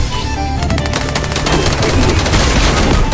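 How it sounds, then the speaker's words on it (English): Loud, sustained automatic gunfire aimed at the player in a video game, a dense close rattle of shots running without a break, no speech. "someone is shooting at me"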